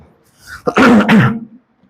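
A single harsh, close cough with a throaty clearing quality, preceded by a soft breath and followed by silence.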